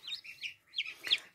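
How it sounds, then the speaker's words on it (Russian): Newly hatched chicks peep inside an incubator, a few thin, high chirps in short bursts, close but faint against a quiet background. "это сегодня всю ночь они будут пищать тут в этом инкубаторе"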